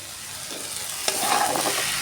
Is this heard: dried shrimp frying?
yes